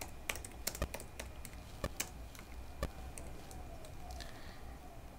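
Rapid keystrokes on a computer keyboard, a run of sharp, irregular clicks with a few louder taps, close and clear over a faint steady background hum, with no voices.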